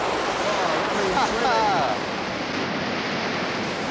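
An underground waterfall rushes in the world's largest cave chamber, a loud, steady roar of falling water, with a faint voice briefly audible through the noise.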